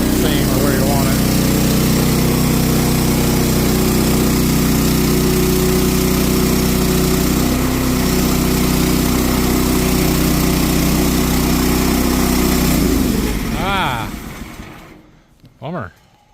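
An engine-powered sawmill cuts a log into boards, its motor droning loud and steady for about thirteen seconds before winding down and fading out, with a voice talking over it.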